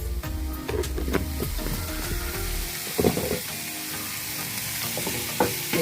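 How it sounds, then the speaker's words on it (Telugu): Onions frying with turmeric in oil for a canned tuna curry, a steady sizzle with intermittent stirring scrapes and clinks up close, no voices. "ఉల్లిపాయలు పచ్చిదనం అంతా పోయేటట్టు బాగా వేపాలి."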